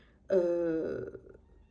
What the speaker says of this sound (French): c'était mon petit chat qui voulait rentrer dans la pièce